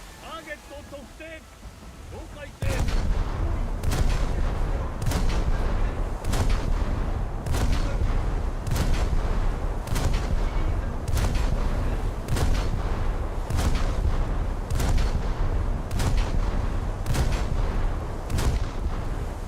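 Naval guns of a warship such as the Chidori firing in a naval combat video game: after a quieter opening, heavy booming shots land at a steady rhythm about once a second, loud and close over a constant rumbling background.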